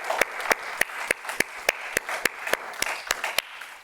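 Audience applause fills a church hall, a steady wash of many hands clapping with a few louder, regularly spaced claps standing out, sustained evenly for several seconds with no talking.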